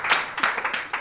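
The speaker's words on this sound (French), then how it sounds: "Un applaudissement du tonnerre" Brief, lively applause and clapping from an audience at the PodBXL 2025 live podcast event in Brussels, rising in a few bright bursts over about a second.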